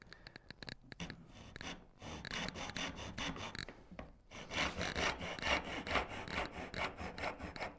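A hand saw cuts shouldered tenons in wood for a Shaker-style cabinet, with short rasping strokes that quicken into a steady back-and-forth rhythm, close and clear without speech.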